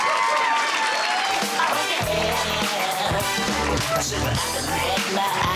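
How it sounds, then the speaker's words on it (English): Audience applause at a comedy show in DC, steady clapping and cheering filling the room over loud music with a thumping beat. "Big round of applause."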